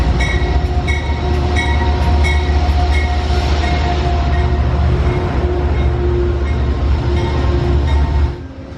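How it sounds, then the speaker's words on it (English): An Amtrak Phase 2 heritage locomotive and its train rumble loudly and steadily at Albany station, with a continuous low drone and tonal hum. The sound cuts off abruptly near the end. "Here's our heritage locomotive, an Amtrak Phase 2."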